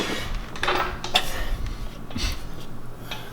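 A bolt goes into BMR drag springs on a supercharged Ford Mustang, with light metallic clinks and taps of hardware and tools, close but fairly quiet against a low hum.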